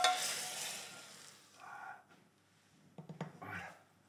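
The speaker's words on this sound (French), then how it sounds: "Je vais déglacer avec un peu d'eau." Water hits a hot pan after browning fat and a pastry brush scrapes up the stuck bits for a country potée, giving a bright hiss that fades, then short scraping strokes near the end.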